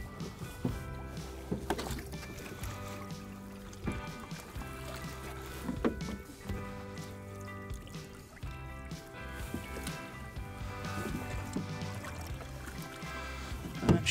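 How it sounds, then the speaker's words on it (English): Salt water pours and gurgles into a cooler nearby, with sloshing, drips and occasional bumps, and no talking. "we're gonna fill this up with salt water"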